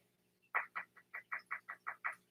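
Rubber chicken squeezed as a percussion instrument: nine short, evenly spaced honking squawks in a quick, steady rhythm, close and loud against a quiet background.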